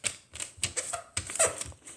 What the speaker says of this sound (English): Now you just want to fold in half up.